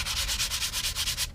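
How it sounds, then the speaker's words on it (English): Filler on a Guillow P-47 model airplane is sanded by hand in quick, even back-and-forth strokes, about a dozen close, loud rasps that stop abruptly, with no talk. "keep sanding until we have a nice transition here, right over that seam"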